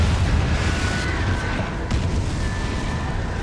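A Confringo blasting spell explodes in the Hogwarts Legacy video game, a dense, rumbling boom held steadily throughout with a heavy low-end roar and no speech.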